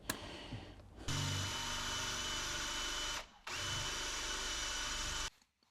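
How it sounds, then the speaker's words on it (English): A power drill boring into a cast iron exhaust manifold on a 1965 Land Rover Series IIA, two sustained, loud, close whining bursts separated by a short pause, with no talk. "this cast iron exhaust manifold was really, really tough to drill into"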